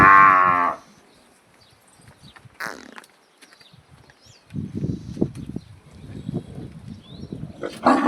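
Cows in a cattle pen give loud, close moos, one long call at the start and another at the end, with shuffling and rustling movement between them and no speech.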